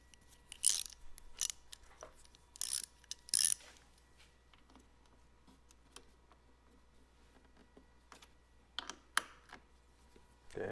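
A ratchet socket wrench works on a bolt of a 2018 Honda Goldwing, giving several quiet bursts of clicking and scattered faint mechanical clicks in a still room.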